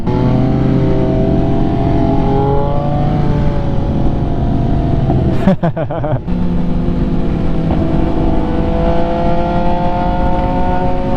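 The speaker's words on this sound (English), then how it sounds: "I never get enough of all the pops and crackles that this exhaust makes." An MV Agusta motorcycle exhaust pops and crackles while riding on the road, with a steady, loud engine drone that breaks briefly into a short burst of sharp crackling before settling back into a steady drone.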